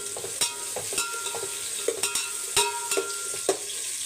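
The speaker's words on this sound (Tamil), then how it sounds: "இப்போ எண்ணெய் ஊற்றி வச்சுருக்கேன், அதில் சேர்த்துடலாம். இப்போ வெங்காயம், பெரிய வெங்காயம், 3 வெங்காயம் நல்லா நீட்டு வாகல கட் பண்ணி" Three large sliced onions frying in hot oil in a home kitchen pan, a steady close sizzle with a spoon stirring and scraping against the pan in irregular clinks and knocks.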